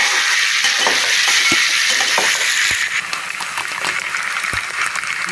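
Boiled prawns fry in a pan with a dense, close crackling sizzle and occasional small pops, steady and loud without any talking.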